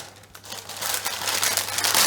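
Parchment paper is pulled and torn from a roll, a rising papery crinkling rustle that grows louder over about two seconds, close and alone.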